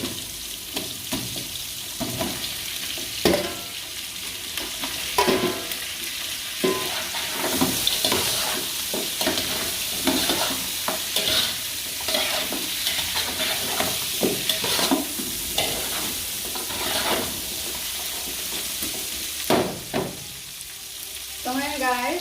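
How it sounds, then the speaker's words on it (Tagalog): Chicken feet frying in a pan for a Thai mixed vegetable stew, a continuous close sizzle broken by repeated scraping stirs of a utensil against the pan, with occasional clatter. "Ayan, isulod na po natin yung ating chicken feet."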